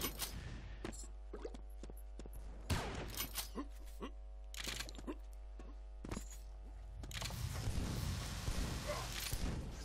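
Quakeworld showmatch gameplay with rocket shots and explosions firing in rapid bursts, sharp repeated blasts over a low steady hum, with louder crackling impacts near the end and commentators talking over it.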